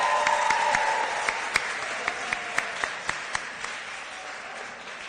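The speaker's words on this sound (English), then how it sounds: "Give her another round of applause." An awards-ceremony audience applauds steadily for about five seconds, a dense wash of many hands with a few sharper individual claps standing out near the end as it carries on without talk.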